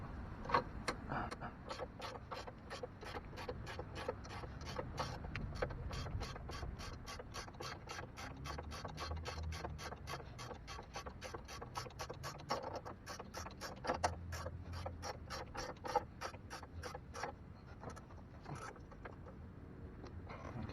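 A hand ratchet tightens a control arm bolt on an Audi B6 A4 suspension, giving a long run of close, crisp pawl clicks in steady rapid bursts with brief pauses between strokes, nearby and fairly loud, with no talking.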